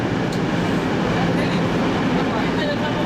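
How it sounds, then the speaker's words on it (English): Trenitalia Frecciarossa high-speed train running toward Milan, a steady loud rumble of the carriage with continuous broadband rolling noise throughout, heard from inside with faint talk beneath. "We are on a train to Milan."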